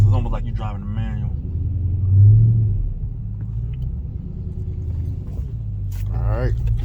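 Dodge Magnum SRT8 on 26-inch wheels, cold, with its engine rumbling low and steady and swelling briefly as the gas is hit, under someone talking near the car.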